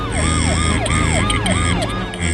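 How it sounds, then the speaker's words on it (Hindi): An ambulance siren wails loud and close in a fast, regular up-and-down sweep, repeating about six times over a low engine hum. "अंततः एम्बुलेंस"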